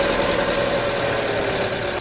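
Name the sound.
car engine belt squealing when starting the engine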